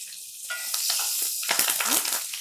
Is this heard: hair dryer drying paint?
no